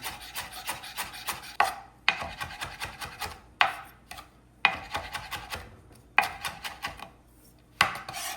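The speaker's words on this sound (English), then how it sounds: "And then I'll add some parsley chopped up." Parsley being chopped on a board, heard as rapid rhythmic knife strikes that come in several bursts separated by short pauses, close and moderately loud.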